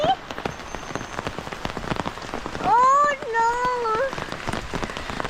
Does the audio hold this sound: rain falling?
yes